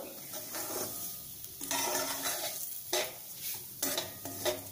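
Semolina being stirred and dry-roasted in a pan over low heat for a pineapple sheera, a steady scraping and stirring with light sizzle, close and continuous with a few louder sweeps.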